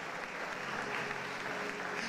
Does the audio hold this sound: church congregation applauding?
yes